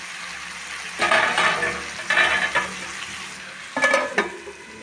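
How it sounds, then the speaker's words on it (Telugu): Tomatoes cook in oil in a pan, giving bursts of sizzling and stirring in three separate swells over a low steady background hum, close and moderately loud with no talk. "ఒక 5 నిమిషాలు అయితే టమాటా ఇవన్నీ నూనెలో మగ్గనివ్వాలి"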